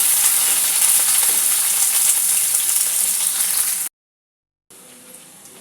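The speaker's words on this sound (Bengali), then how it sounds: "পেঁয়াজটা একটু ভেজে নেব" Chopped onion fries in oil with whole spices. A strong, steady sizzle is followed by a sudden silent gap, then the frying resumes more quietly.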